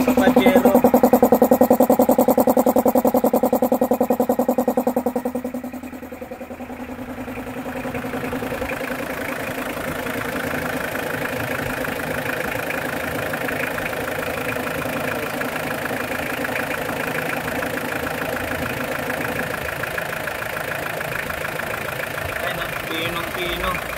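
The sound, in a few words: Mitsubishi Pajero 4D56 turbo engine idling after overhaul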